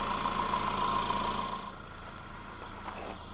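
A 2013 Honda Accord engine idles steadily at close range, a constant mid-pitched hum that drops slightly in level partway through and then runs on evenly.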